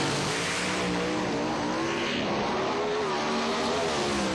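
A drag racing car makes a wheels-up run down the strip at the Northern Nationals in New Zealand, its engine a loud, steady roar that rises slightly in pitch across the run, with no talking over it.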